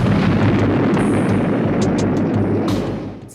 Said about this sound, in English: Saving the big explosions.